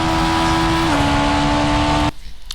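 A race car engine in Trackmania holds a steady, buzzing high-revving drone, up close, with a slight pitch drop near the middle before cutting off abruptly into quieter background.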